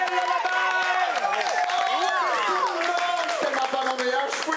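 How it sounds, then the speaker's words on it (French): Audience clapping and cheering for a drag queen coming on stage, a fairly quiet but steady burst of claps with whoops and excited voices layered over it. "On applaudit pour Gisèle Lalabert!"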